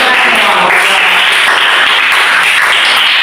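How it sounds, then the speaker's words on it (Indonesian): Participants at an academic coaching-supervision training session applaud, a loud continuous patter of clapping that holds evenly throughout. "Berikan dulu tepuk tangan."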